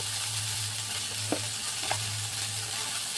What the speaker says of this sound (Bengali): তাই আমি আগে মশলাটা কষিয়ে নেবো